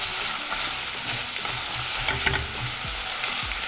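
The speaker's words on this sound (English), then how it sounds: "You're supposed to add the onions in first. So give that a good stir" Onions frying in a pan for tadka dal are stirred, a steady dense sizzle with scraping and clicking utensil movements throughout, close and continuous.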